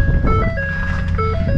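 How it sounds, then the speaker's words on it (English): Door-open warning chime inside a 2011 Raptor-based Ford Bronco, a repeating electronic two-tone ding cycling steadily over the idling engine rumble, close and clear. "You can hear the dinger started as soon as we open the door."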